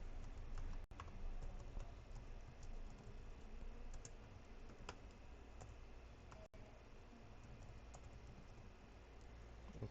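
Soft, steady typing on a computer keyboard while entering text in draw.io, quiet clicking taps in an even patter with no other sound.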